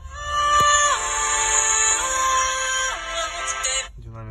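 A ringtone melody plays loudly through the speaker of an Honor 50 smartphone, a bright, steady tune with shifting tones lasting about four seconds before cutting off abruptly.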